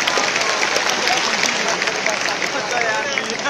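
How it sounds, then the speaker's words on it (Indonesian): Sustained applause from a university audience for students, a dense, steady wash of clapping filling the whole stretch with crowd murmur mixed in. "Oke, tepuk tangan untuk anak-anak kita yang menunjukkan."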